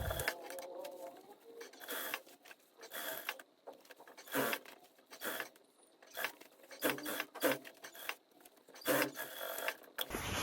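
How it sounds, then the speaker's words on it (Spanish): A sewing machine stitching a 1 cm seam along a fabric hem, running in short, quick bursts of rhythmic mechanical whirring and clicking with brief pauses between runs, close and fairly quiet. "vamos a pasar costura a 1 centímetro todo nuestro ruedo"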